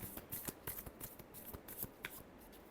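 Tarot cards being shuffled by hand, a quiet rapid patter of soft riffling snaps close up, faint and steady without any voice.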